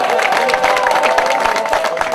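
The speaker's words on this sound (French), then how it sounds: "Des acclamations s'il vous plaît, encore des acclamations" A crowd cheers and claps loudly at a foundation-stone laying ceremony in Fako, Cameroon, voices mingling in a dense, continuous roar of approval.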